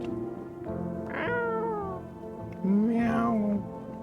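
A cat in the horror game No, I'm Not A Human gives two clear, close meows, the second one longer and lower, alone without any talk.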